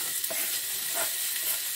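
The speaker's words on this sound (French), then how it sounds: "j'ai mis mon tagine à chauffer. Donc là, on va d'abord mettre les oignons" Chopped onions sizzle in a hot tagine, a soft steady frying hiss that carries evenly throughout at low volume, with no talking.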